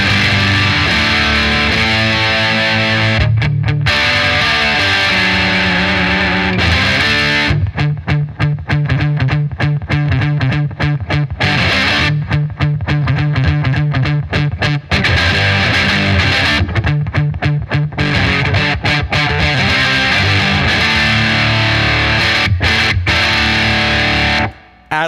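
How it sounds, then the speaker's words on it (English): An electric guitar played through an overdrive preamp pedal with added gain after the pedal, sustained distorted chords and riffs with brief choppy gaps, loud and continuous for about twenty-five seconds with no talking. "This is the Overdrive preamp."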